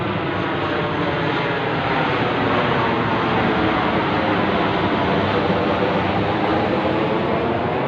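An aircraft flying overhead sounds like a loud, steady, continuous roaring drone that holds its level throughout, with no voices.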